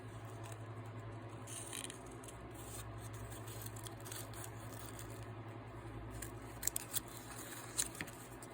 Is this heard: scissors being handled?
yes